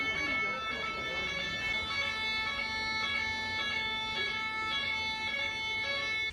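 An ambulance siren wails on narrow Italian roads, a steady tonal warble repeating in regular cycles, moderately distant and ongoing throughout.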